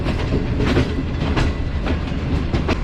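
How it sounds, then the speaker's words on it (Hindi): The Shalimar Express pulls out of Karachi Cantt railway station, its wheels beating a steady clickety-clack over the rail joints beneath a loud, continuous rumble close by. "कराची कैंट रेलवे स्टेशन को ट्रेन ने अलविदा कह दिया है।"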